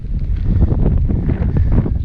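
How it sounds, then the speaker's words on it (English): Strong wind buffets the microphone on a hilltop by a small monument during a cycling trip in Greece, a steady loud roar and rumble throughout with no speech. "It's a little bit windy up here, so I hope you can hear me okay."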